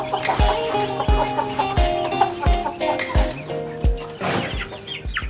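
A young chick clucks in short, sharp bursts roughly every half second to second, close and clear, with soft background chatter of other birds and no talking.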